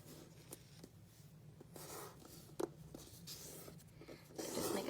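Paper is folded and creased into a bookmark, giving soft close rubbing and sliding sounds with a few crisp taps as the fold is pressed flat, quiet throughout.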